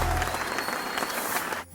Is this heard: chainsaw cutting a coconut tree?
no